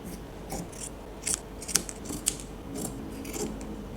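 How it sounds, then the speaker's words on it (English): Scissors snip through fabric while a bow with tails is being shaped, giving several short, crisp cuts spaced irregularly, with no talking. "Now you can cut the shape according to the shape."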